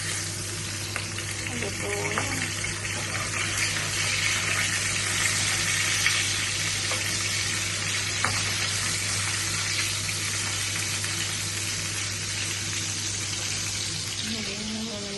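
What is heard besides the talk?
milkfish (bangus) frying and popping in oil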